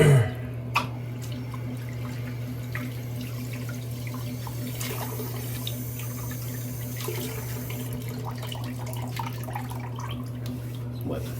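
Tap water runs steadily from a faucet into a sink while a man wets his face before a shave with Draconis soap from Subtle Art Soap Co. It is a continuous close splash with a low hum underneath.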